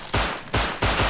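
Three loud, sharp gunshots from a firearm in the survival game Rust, fired in quick succession about half a second apart, close and alone with no talk.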